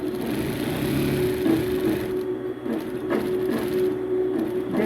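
A sewing machine runs a steady whirring stitch at normal stitch length, joining two pocket bag pieces for a pleated school skirt, with a constant motor tone and brief dips where it slows.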